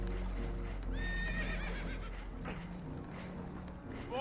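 Spooked horses on a damaged boat in Red Dead Redemption 2 neigh and whinny, with high wavering calls rising over a low rumbling background and some clip-clop, heard fairly close.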